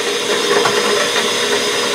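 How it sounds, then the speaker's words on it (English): A drill press bores into a block of wood clamped on its table in a metal shop, a steady close-up grinding whir with slight rough texture throughout and no talking. "now I can drill right into the wood."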